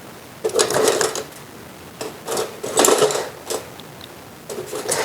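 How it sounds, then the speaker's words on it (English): A small loop tool scrapes out the inside of a clay water sculpture being hollowed for firing, making short rasping strokes in irregular bursts, close and fairly loud, with no talking. "the tools I like using are these to remove the insides, these little loop tools"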